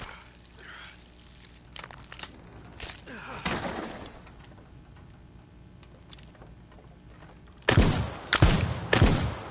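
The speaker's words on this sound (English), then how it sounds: "when I start panic shooting at this stupid dynamite" Several loud, sharp gunshots ring out in the video game Crisol, fired at dynamite, with scattered bursts early and a tight rapid cluster near the end.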